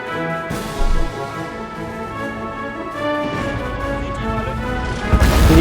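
Explosion sound effects in a toy-soldier war battle: two short, heavy crashing booms, one early and one near the end, under steady dramatic background music.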